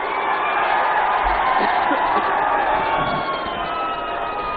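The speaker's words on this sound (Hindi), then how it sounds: "माननीय ओम प्रकाश जी, जोरदार तालियों के साथ स्वागत कीजिए" Large crowd at a 2024 Lok Sabha election rally in Ghazipur cheering and clapping to welcome a leader, a loud roaring mass of voices and shouts under a steady din, with a public-address system in the background.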